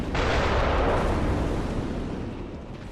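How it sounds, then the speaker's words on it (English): A loud cannon blast from an undead giant in the video game Bloodborne, one heavy broadband boom that erupts at once and then rumbles away slowly. "It's an undead giant with a cannon!"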